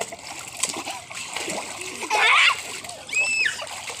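Water splashes loudly in short bursts as someone is bathed, with a voice and other people talking throughout.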